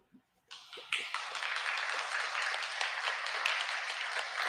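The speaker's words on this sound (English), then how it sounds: "Applause." A sudden burst of steady applause follows a few scattered opening claps and carries on densely at a fairly loud level until the end.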